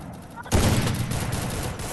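Gunshots in the Free Fire battle royale game: a sudden loud burst of rapid gunfire that starts partway in and continues densely, with a voice talking over it.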